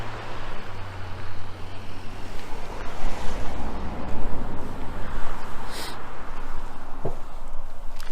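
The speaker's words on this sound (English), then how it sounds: "I guess I'll wait for some cars to go by here for a second." Traffic along a road in Rocky Mountain National Park during the elk rut gives a broad, steady outdoor roar with swelling passes, wind and a vehicle's rumble mixed in, heard alone without talk.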